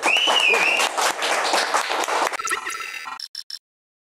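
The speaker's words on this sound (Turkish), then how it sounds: "Alkışlar alalım bir de kendisine böyle" Studio audience applause on a Turkish rap talk show, a dense, loud burst of clapping with a brief whistle-like tone near the start, thinning into a few scattered claps before falling silent.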